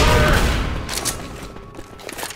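Gunfire in Left 4 Dead comes as a burst of rapid shots at the start, then a few scattered sharper cracks fade and recur over a low game ambience.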